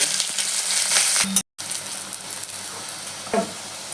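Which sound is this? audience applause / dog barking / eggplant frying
eggplant frying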